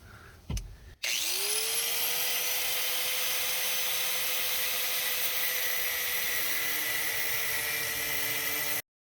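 An angle grinder cutting through headless bolts on a Nissan D21 Hardbody, starting with a brief clunk, then spinning up into a loud, sustained high whine with a steady grinding hiss for several seconds before cutting off abruptly.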